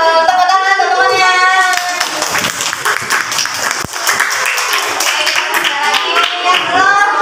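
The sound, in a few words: classmates clapping hands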